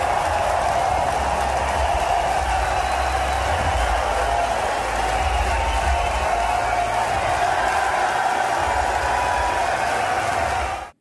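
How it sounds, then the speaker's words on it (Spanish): A crowd at Tivoli Gardens in Copenhagen applauds Danish cyclists at the Tour de France 2022 team presentation, steady dense clapping and cheering holding at an even level throughout before cutting off abruptly. "Los ciclistas daneses fueron súper aplaudidos"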